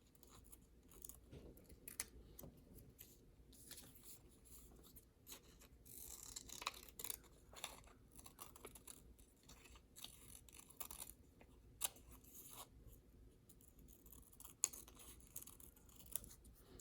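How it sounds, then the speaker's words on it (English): Scissors snipping through pink paper in a quiet room, a string of small, faint crisp cuts and paper rustles at close range with no talking. "hold the paper with our other hand, and carefully cut on that line."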